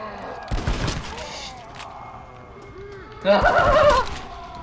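Gunshots in the video game Red Dead Redemption: Undead Nightmare come as two loud clusters of rapid shots separated by a quieter stretch, set among other game sounds.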